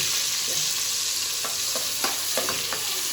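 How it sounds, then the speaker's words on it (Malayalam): Crushed ginger and small shallots sizzle steadily in a pan with a constant hiss, while a utensil stirs them with soft scrapes and clicks. "നന്നായിട്ട് ഇളക്കി കൊടുക്കാം."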